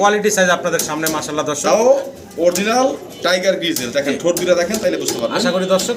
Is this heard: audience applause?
no